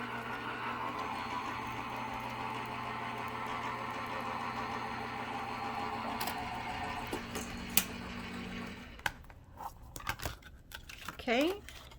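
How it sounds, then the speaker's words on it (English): A die cut machine feeds a paper petal die through its rollers with a steady mechanical hum and grind for about nine seconds, then stops, followed by crinkling paper handling and a brief squeak. "go ahead and run that through my die cut machine"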